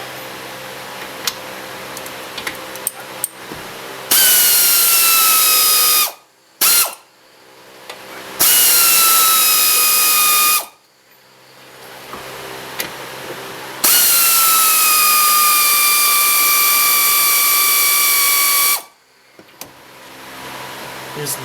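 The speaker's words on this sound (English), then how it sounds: "Take the air tool." Air tool loosening a ball joint nut on a 2003-2007 Honda Accord upper control arm: loud, close pneumatic whirring and rattling in several long bursts with short pauses, preceded by scattered clanks of metal tools.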